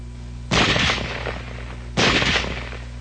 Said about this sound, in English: Now let's look at weapons which have both automatic fire and semi-automatic fire.